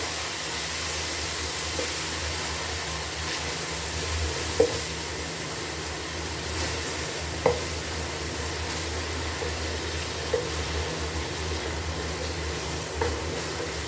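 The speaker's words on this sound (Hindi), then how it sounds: "अब यहाँ पर हमने 3 से 4 अदद टमाटर ले लिए थे, वो इसमें हम ऐड करेंगे और इसको हम अच्छे से मिक्स कर लेंगे" Tomatoes are stirred into garlic frying in a pot for a shahi murgh cholay dish. The soft, steady sizzle carries a few light taps of the spoon against the pot, with no talking.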